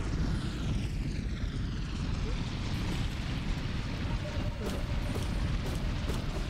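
Creatures in Hollow Knight give off a loud, sustained roaring whoosh like a jet airplane taking off, with a broad rumbling texture and a few sharp clicks near the end, heard alone.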